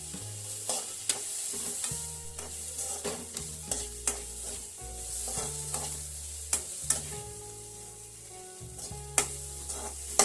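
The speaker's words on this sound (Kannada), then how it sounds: "ಬೆಳ್ಳುಳ್ಳಿ, ಶುಂಠಿ, ಟೊಮೊಟೊ, ಹಸಿಮೆಣಸಿನಕಾಯಿಯನ್ನು ಹಾಕಿ ಹುರಿದುಕೊಳ್ಳಿ." Onion, garlic, ginger, tomato and green chilli frying in a pan for a masala puri base, with continuous sizzle and repeated spatula knocks and scrapes, close and fairly loud, with a low hum underneath; no voices.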